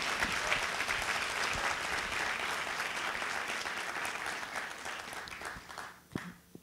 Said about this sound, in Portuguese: Então, palmas para a equipe da Abrage.